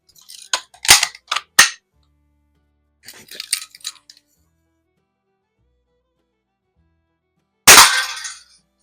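An air rifle that is very stiff to cock, still fitted with its original leather seal, fires one loud, sharp crack that rings off briefly. It follows a few scattered clicks and handling noises near the mic.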